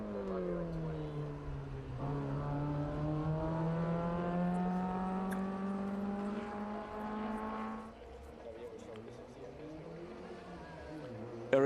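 A 2002 Elfin clubman race car with a 1600cc engine pulls away from the start line at a grassroots historic sprint event, its engine note climbing steadily for several seconds before fading into the distance.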